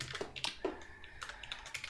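Quick, uneven keystrokes clatter on a computer keyboard, close and fairly quiet, coming in short bursts with little pauses between them.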